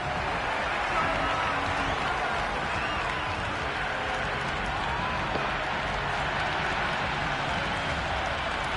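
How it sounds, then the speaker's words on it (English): A large stadium crowd roars steadily for a hat-trick in a cricket video game, a dense, continuous wash of cheering that holds at an even level throughout with no gaps. "That's a hat-trick, and the crowd are going wild."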